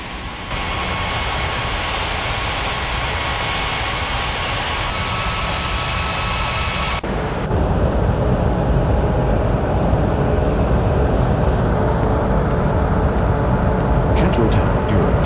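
Jet airliner taking off in an air traffic control game at an international airport, a loud steady engine roar that holds throughout and swells louder partway through as the aircraft powers down the runway.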